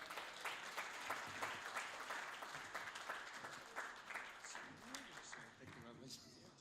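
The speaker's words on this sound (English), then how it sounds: "Start clapping now!" Audience applause at a talk or presentation, dense steady clapping that fills the room for several seconds, loud and close, with a few voices mixed in near the end.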